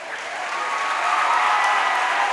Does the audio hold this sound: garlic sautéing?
no